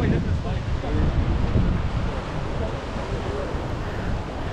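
Ocean waves at Querim Beach in North Goa, beneath a hill, wash continuously as a steady, fairly loud roar mixed with wind buffeting the microphone.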